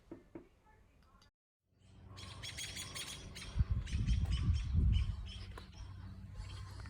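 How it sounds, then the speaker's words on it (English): Faint bird chirps and twitters in the distance over a rustling, breezy outdoor garden background, with a few louder low thumps. "If you listen carefully, you can hear the birds in the background."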